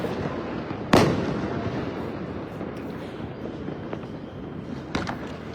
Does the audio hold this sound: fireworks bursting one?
yes